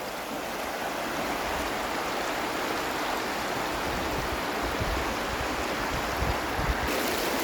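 Steady rushing water flows continuously at a bathing spot in Zambales, a broad, even hiss like a nearby stream or small waterfall, with no voices.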